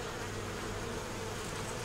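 Bees buzzing in a steady, dense hum, faint but continuous and close by, with no voices over it.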